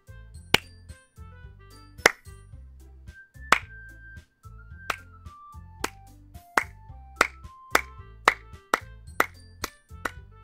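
Sparse, sharp claps ring out one by one in the Doki Doki Literature Club video game, a slow uneven run of crisp single hits over a soft musical background.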